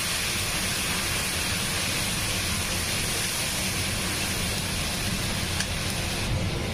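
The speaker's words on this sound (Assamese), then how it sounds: "মছলাটো অকণমান মই ভাজি ল'ম।" Masala of turmeric and Kashmiri chili powder fries in a pan for a fish-head and cabbage curry, a steady, dense hiss that holds at an even level throughout with no voices.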